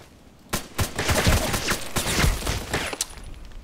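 Assault rifle fire in a video game, an HK 417D, crackles through several quick bursts and single shots, loud and close, with sharp echoing reports over a steady wash of gunfire.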